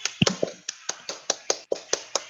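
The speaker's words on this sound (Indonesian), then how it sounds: "Tepuk tangan dulu untuk Tiara." A classroom group gives a student a round of applause: about a dozen sharp, evenly spaced hand claps over two seconds, fairly close and crisp, with no talking over them.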